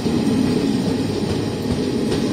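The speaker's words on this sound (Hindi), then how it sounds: "तिरुवनंतपुरम से कोड़िकोड जाने वाली ये गाड़ी है और शायद इंटरसिटी एक्सप्रेस है।" Intercity Express passenger train running from Thiruvananthapuram to Kozhikode, made up of AC chair cars and second-class seating coaches, gives a steady, loud low rumble as it passes nearby, with no talk over it.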